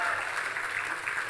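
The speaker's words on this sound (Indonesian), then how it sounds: "tepuk tangannya boleh yang paling meriah?" A church congregation applauds during a sermon announcement, a steady, fairly faint wash of clapping from a large room that lasts the whole brief moment.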